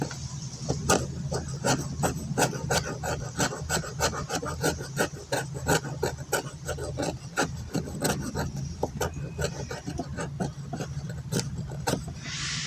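A small survival-kit tool rasps against wood, shaving feather sticks in steady, rhythmic scraping strokes, close and fairly quiet, with no talking.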